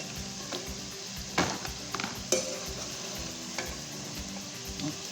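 Seasoned potatoes sizzle steadily in a frying pan, with a few clinks and scrapes of a utensil stirring them close by; no one speaks.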